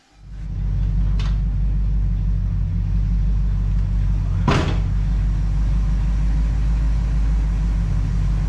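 A 1969 Plymouth Fury III engine rumbles steadily and loudly while being driven, with a couple of brief knocks or clunks over the constant low drone, no speech.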